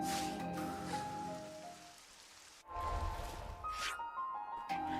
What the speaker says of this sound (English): It's currently raining